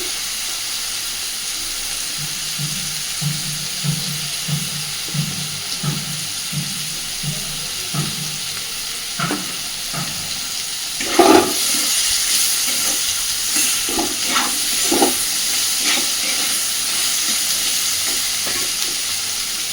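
Chopped onion fries in a pan for a Bengali apple snail (googli) curry, a steady sizzle under repeated scraping stirs that come in a regular rhythm, then grow louder and more irregular, close by with no voices.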